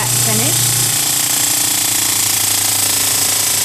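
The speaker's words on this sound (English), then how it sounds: "This is my big drum sander. I'm going to sand the face of the tail feather." A big drum sander sanding the flat face of a tail feather runs loud and steady with a harsh, continuously rattling grind. Speech is heard briefly at the start.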